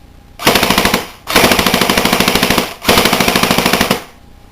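A Crosman Pulse R76 airsoft rifle with an all-metal gearbox fires three fully automatic bursts, each a rapid, even rattle of shots with short gaps between, loud and close with no talking.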